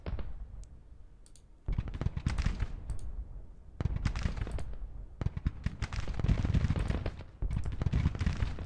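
Battle sounds from the Civil War strategy game Grand Tactician: dense crackling musket fire and booming cannon shots come in loud, clattering bursts that keep going without a break, and no one speaks over them.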